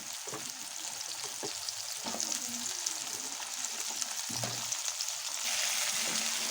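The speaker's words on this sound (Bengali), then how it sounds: "অল্প নেড়ে নিচ্ছি।" Sliced potatoes and pumpkin sizzle in hot oil in a pan as they are stirred, with a constant bright frying hiss and occasional scrapes and knocks of a spoon, close by and without talk.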